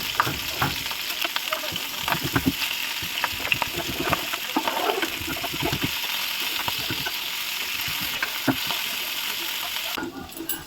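Potato pieces frying in oil in a pan on a home stove, ahead of a boal fish curry: continuous close sizzling and crackling broken by scraping stir strokes, with no talk.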